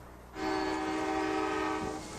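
A freight train horn sounds one loud, sustained blast in a small town in Bedford, Ohio, starting abruptly and holding steady for about two seconds before easing off.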